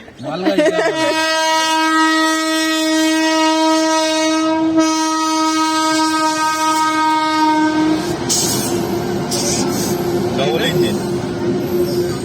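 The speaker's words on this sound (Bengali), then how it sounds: "এখানে ওই যে ট্রেন আসছে, ওই যে ট্রেন" At a railway station, a train sounds a loud, sustained horn as it approaches, then its cars rumble and clatter past close by.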